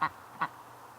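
Two sharp, nasal quacks from a duck ring out close by, about half a second apart, over a faint quiet background.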